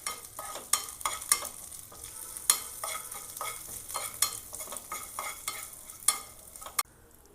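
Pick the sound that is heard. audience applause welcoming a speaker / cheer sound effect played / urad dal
urad dal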